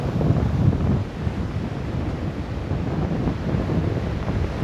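Ocean waves washing in steadily under strong wind buffeting the microphone, a broad continuous roar at close range with no voices.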